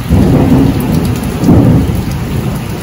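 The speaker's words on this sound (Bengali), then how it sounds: "মেঘ ডাকছে খুব জোরে জোরে।" Loud thunder rumbles in two swelling rolls over heavy, steady rain during a storm, close and continuous throughout.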